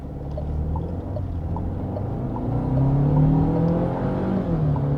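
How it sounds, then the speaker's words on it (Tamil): A Nissan Tekton with a 1.3-litre turbo engine and dual-clutch gearbox launches hard, its engine note climbing steadily in pitch and loudness as it accelerates, heard close from inside the car with no talking. "ஸோ நம்ம இந்த இடத்துல சின்னதாக ஒரு லான்ச் பண்ணுவோம்."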